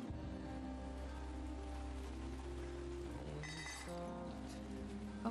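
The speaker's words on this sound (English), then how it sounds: "It's raining." Steady rain in the video game We Harvest Shadows patters on a surface, with soft melodic music tones drifting over it throughout.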